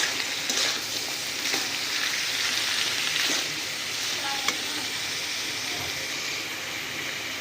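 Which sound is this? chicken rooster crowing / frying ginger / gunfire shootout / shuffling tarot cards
frying ginger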